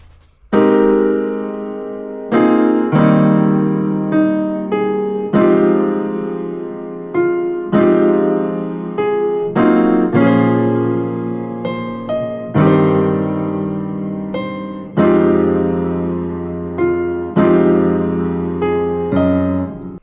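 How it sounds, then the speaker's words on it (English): A piano plays a steady melody of repeated chords and notes in a regular rhythm, loud and clear with no voices. "this is the main piano melody that I got from the sample"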